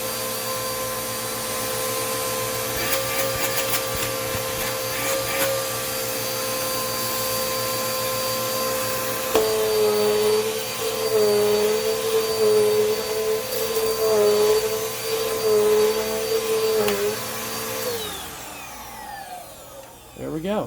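A Dirt Devil Quick-Lite Cyclonic vacuum cleaner runs with a steady, loud motor whine that shifts pitch partway through and winds down near the end.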